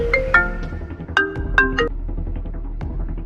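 A phone rings with a short, repeating electronic melody of bright notes over a low background hum.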